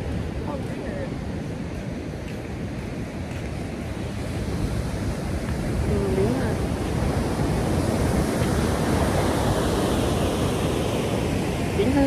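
Ocean waves rolling in at Huntington Beach Pier, a loud, broad wash of surf that swells midway, mixed with gusty wind buffeting the microphone.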